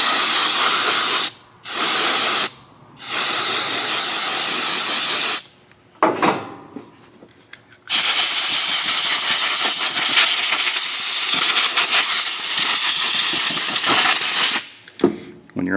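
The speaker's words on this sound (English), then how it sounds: "And I use ether to clean it up because it dissolves the oil." Aerosol ether spray hissing loudly and close onto a 2018 Chevrolet Silverado 8-speed transmission oil pan, in several short bursts followed by one long continuous spray.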